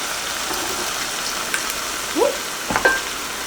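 Chardonnay white wine and crushed tomatoes hit a hot pan and sizzle steadily, a broad hiss of frying with a couple of stirring scrapes and bubbling pops, no talking over it.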